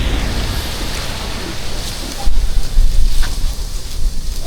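Wind blowing outdoors at a quiet spot away from people, heard as a steady broadband rush that swells louder midway, with a faint voice now and then.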